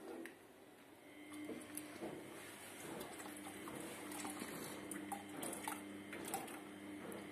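Liquid is poured into spinning homemade soy milk while making tofu, a soft continuous splashing and trickling with faint clinks, quiet and close, no voices.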